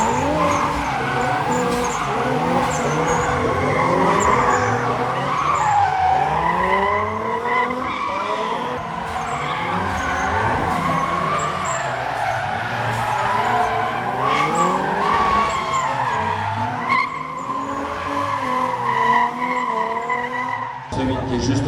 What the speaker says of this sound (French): Le show drift, il va bientôt commencer.